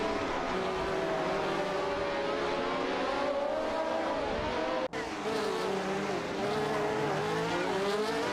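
Ferrari 312T race cars in a racing video game, a dense, continuous engine roar with shifting pitch as cars pass, plus a brief dropout midway and faint tire noise.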